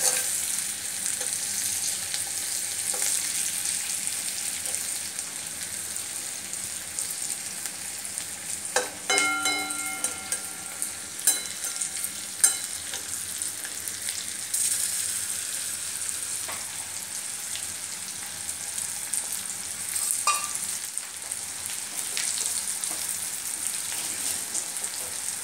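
Chicken pieces fry in a pan for chilli chicken, giving a steady close sizzle throughout with occasional stirring clatter and pops, no one speaking.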